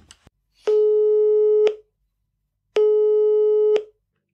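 German telephone ringback tone heard while placing a call, two long steady beeps separated by a pause, clear and loud with no talk.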